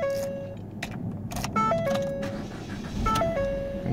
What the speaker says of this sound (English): So now I'm gonna go ahead and turn the car off and start the car.